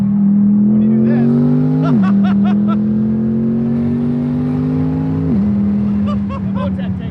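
A twin-turbo V8 in a C8 Corvette pulls hard from inside the car, its loud droning note climbing steadily and then dropping sharply at two gear shifts before rising again, with faint turbo chatter and a voice speaking briefly near the end.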